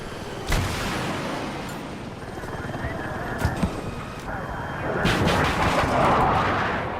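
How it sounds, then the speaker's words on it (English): Helicopter rockets striking an armored vehicle in the Battlefield video game, with a steady rotor and engine drone, sharp impact bangs, and a burst of heavy explosions near the end, under a player talking. "the rockets just aren't doing the work to get through his armor"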